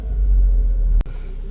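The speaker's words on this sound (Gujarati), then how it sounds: "જો આ ગાડી નીકળી ગયેલી છે." A car passing on a village road: a steady low rumble that holds for about a second, then cuts off sharply and settles into a quieter drone.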